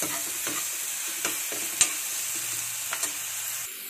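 Apple pieces fry in a pan over a low flame for apple halwa, a steady soft sizzle broken by several sharp scraping stirs of a spoon against the pan, close and alone.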